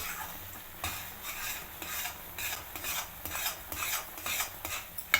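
Ghee-coated boondi for motichoor laddu is stirred in a pan over medium flame, making a continuous gritty scraping and rustling with a rhythmic swish. The sound is fairly quiet and has no talk over it.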